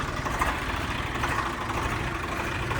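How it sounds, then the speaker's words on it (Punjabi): A Swaraj 855 tractor idles with a steady, low engine rumble continuously at close range, a heavy diesel throb with no voices over it. "ਆਵਾਜ਼ ਸੁਣੋ ਬਾਈ ਟਰੈਕਟਰ ਦੀ"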